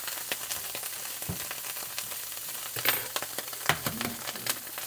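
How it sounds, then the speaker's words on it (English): Egg frying in a hot pan at breakfast, a soft steady crackle with scattered sharp pops and spits, fairly quiet and close, with no talking. "Guess I better get an egg going."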